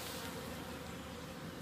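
A dense, steady hum of many honey bees buzzing close by among flowering honey plants in Spain, a continuous droning swarm with no voices.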